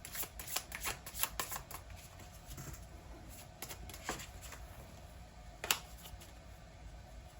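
Tarot cards are shuffled by hand in quick, irregular riffles and snaps, close and fairly quiet, with no talking.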